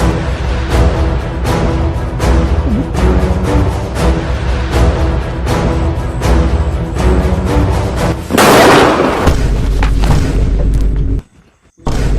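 Diwali firecrackers go off in a loud, nearly continuous barrage of pops and bangs, with a denser burst of crackling near the end before a brief drop to silence and a final resumption.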